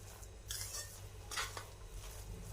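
Carrot barfi mixture with milk powder is stirred in a pan, giving quiet scraping strokes of a utensil against metal in a few uneven bursts over a low background hum.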